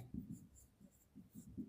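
Pen or pencil writing by hand on paper while prime factors are worked out for a sixth-grade maths exercise, a soft scratchy rhythm of short strokes repeating close by, quiet and alone.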